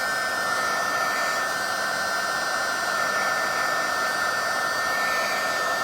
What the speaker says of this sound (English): I have my heat tool in one hand, and I'm mixing it in the other